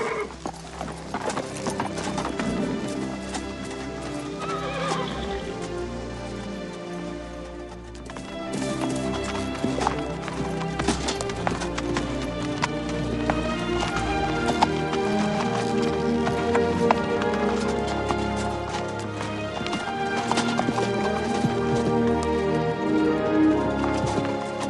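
Steady clip-clop of horse hooves continues throughout, accompanied by music and an occasional whinny, with no speech over it.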